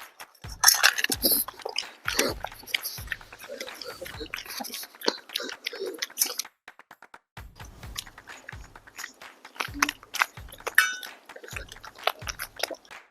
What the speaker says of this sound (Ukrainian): Тільки послухайте, як цей корм хрумтить.